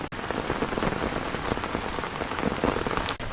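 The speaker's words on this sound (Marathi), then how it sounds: "सकाळपासून पाऊस पडतोय" Heavy monsoon rain in the Konkan pours down steadily, a dense, continuous hiss of drops drumming on surfaces close by, with no voices.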